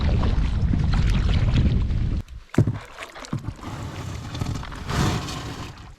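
Strong wind roars across open water around a kayak, loud buffeting gusts and wind noise dominating, easing briefly midway with a few sharp knocks before the gusting rises again.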